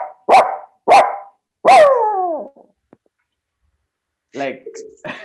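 A man imitates a dog, giving three sharp barks, the last drawn out into a falling whine, then a softer yelp-like call after a pause, all close and loud.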